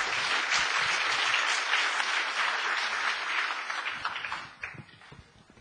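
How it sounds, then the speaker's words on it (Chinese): Warm audience applause welcoming an author at a book-fair lecture in Hong Kong, dense and steady for several seconds before thinning into scattered claps and fading out. "让我们再次用热烈的掌声欢迎李成鹏来到香港"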